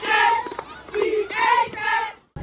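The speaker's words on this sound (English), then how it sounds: "Everybody cheers at every football game, but the cheer team cheers the loudest." A cheer team yells together at a football game, loud group chanting in a few rising bursts that end abruptly.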